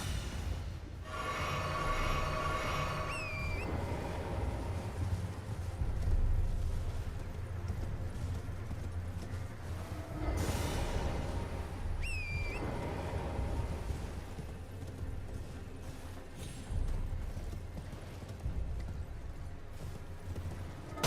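Horse hooves clatter in a steady galloping rhythm in Elden Ring, running continuously at moderate loudness beneath game music and effects, with no talk over it.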